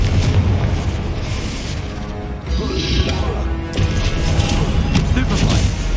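Blasting spell explosions crash through a busy fantasy combat scene in the Hogwarts Legacy video game, booming repeatedly over dense game effects with a voice shouting spell names throughout.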